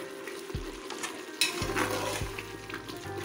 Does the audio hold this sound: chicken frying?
yes